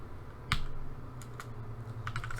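Keys on a computer keyboard are tapped in a few sparse, close clicks, one sharper press followed by lighter strokes, over a low steady hum with no talk.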